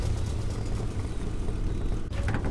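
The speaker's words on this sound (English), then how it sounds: "Starting engine." A tank engine in the video game Hell Let Loose, running at a steady low idle: a close, even rumble throughout, with a brief dip near the end and no talk over it.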